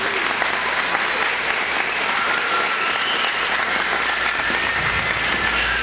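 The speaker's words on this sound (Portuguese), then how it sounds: "Uma salva de palmas para esses caras." Church congregation giving a warm round of applause, dense continuous clapping at an even loudness filling the whole stretch with a faint crowd murmur underneath.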